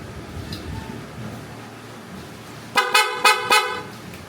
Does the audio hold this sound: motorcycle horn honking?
yes